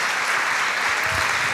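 A congregation at a church conference claps the Lord together, a dense, steady wash of applause filling the whole moment at close range.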